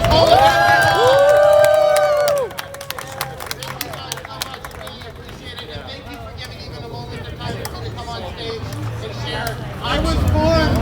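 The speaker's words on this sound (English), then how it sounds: "We should give the organizers a big round of applause for this whole event." A crowd at an outdoor Stop Asian Hate rally in Harvard Square cheers and shouts at the start, then claps and murmurs in a looser hubbub before the cheering swells again at the end.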